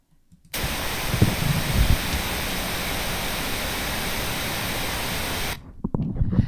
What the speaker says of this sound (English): Because pink noise is between brown and white, it sometimes is described as tan.